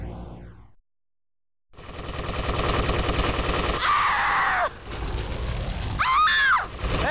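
Gunfire in Grand Theft Auto: Vice City Stories, a dense, loud burst of shots and blasts that starts after a short silence and runs on under a busy game mix, with sharp whining tones near the end.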